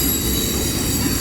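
A train rolls past close by on the railroad track, a loud continuous rumble of wheels on rails with a high metallic squeal running over it.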